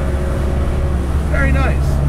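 A carbureted 4-cylinder engine in a resto-mod BMW 2002 runs at a steady, loud idle with a low, even drone, and a brief voice cuts in near the end.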